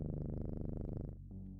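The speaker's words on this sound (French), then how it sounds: "Ah, ils ronronnent fort, hein." Cats purring loudly in the video game OneShot, a deep rhythmic rumbling purr close and steady, cutting to a lower softer purr near the end.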